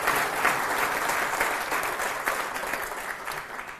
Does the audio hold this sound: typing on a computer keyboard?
no